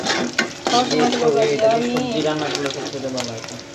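Saag greens frying and being stirred in a pan, a steady sizzle with scraping stirs running throughout, partly under a person talking.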